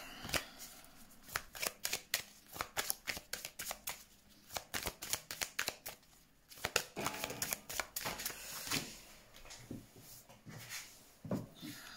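Tarot cards being shuffled by hand, heard as rapid, crisp riffling and slapping bursts that repeat throughout at close range, with no talking.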